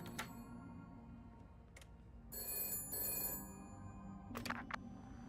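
Telephone ringing in the Shadows of Doubt video game, several separate electronic bell rings, clear and fairly close, with quiet gaps between bursts.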